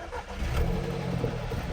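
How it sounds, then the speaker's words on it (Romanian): A car engine runs steadily after starting, kept going to drive an air compressor for inflating air suspension bags; a continuous mid-low rumble sits close and fairly loud for the whole moment, with no talking. "Pornim mașinuța pentru că o să ne pornească compresorul"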